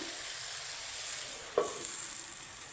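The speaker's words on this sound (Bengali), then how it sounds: "আমার আলুর খোসাটা কিন্তু প্রায় ভাজা হয়েছে" Potato peels frying in a pan, a faint steady sizzle with one sharp utensil knock partway through, close and quiet, with no talking.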